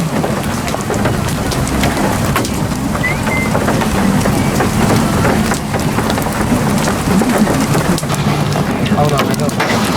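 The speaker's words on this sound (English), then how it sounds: "We got golf ball size hail falling and ping pong ball." Heavy storm near a violent tornado in Oklahoma, with golf ball and ping pong ball size hail and rain pounding surfaces in a dense, continuous roar, a low rumble underneath and occasional sharper impacts throughout.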